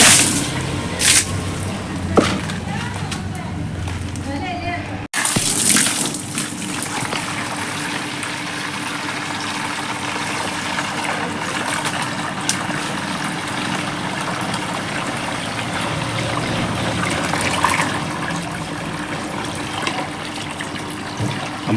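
Fresh water is poured into flower pots, with splashing and trickling close by. After a brief dip around five seconds it becomes a steady gushing fill, and there is no speech.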